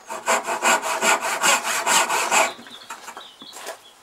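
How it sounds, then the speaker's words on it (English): A hand saw rasps rapidly through wood cutting a dovetail joint, in quick, even back-and-forth strokes, close and loud, then slows to lighter scraping near the end. "And then saw. Sawing on the inside of the line."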